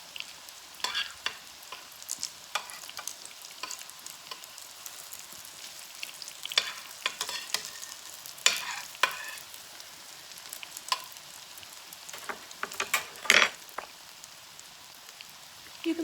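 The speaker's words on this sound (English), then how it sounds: "You want it to kind of bubble up like this around the latkes." Zucchini latkes frying in a pan of oil, a steady close sizzle with dense crackling and bubbling pops that runs throughout, with occasional louder spits.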